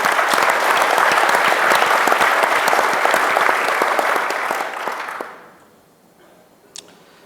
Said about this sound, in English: I request a round of applause for them as well.